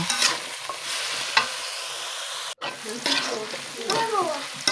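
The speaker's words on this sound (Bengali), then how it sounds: "এবার আমি কিছুক্ষণ নেড়ে চেড়ে একদম ভাজা ভাজা করে নেব" Sliced onions and raw potatoes frying together in a pan, a steady close sizzle with repeated scraping stirs and one brief dropout midway.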